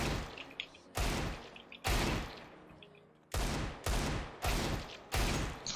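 Desert Eagle pistol shots ring out in a video game, six loud sharp blasts spaced roughly a second apart, each followed by a brief decaying tail.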